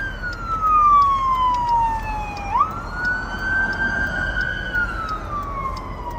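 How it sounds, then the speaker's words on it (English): Emergency vehicle sirens wailing steadily, the pitch sliding down then sweeping back up, loud and close over a constant road rumble. "I need to know where these sirens are going."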